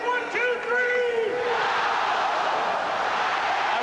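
A 1982 basketball playoff arena crowd of about 23,000 in San Antonio rising to its feet, a loud sustained roar of cheering that swells and holds steady, with a commentator's voice over the top at the start.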